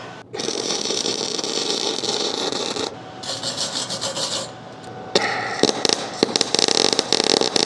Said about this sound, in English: So I'm just welding over those bad welds.